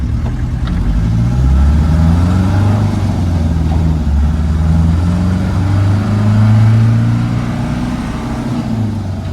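A 1986 Land Rover 90 diesel pickup engine pulls loud and close, rising in pitch as it accelerates through the gears, with rough low rumble and brief dips at each shift.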